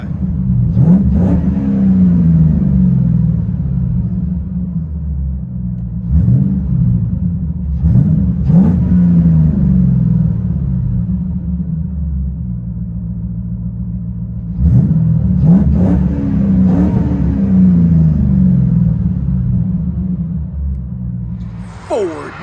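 Heard from inside the cabin, a 2008 Ford Mustang GT California Special with a 4.6L V8 and Pypes Bombs exhaust holds a deep droning idle, broken by several sharp revs spaced apart, each rising and settling back.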